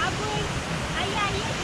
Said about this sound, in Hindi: ये एक छोटा सा झरना है यहाँ पे।